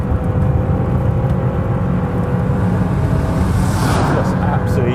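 A completely original, standard Lancia Delta Integrale Evo II on the move, with a continuous, fairly quiet engine drone and road rumble holding steady and loud throughout, and a brief swell near the end.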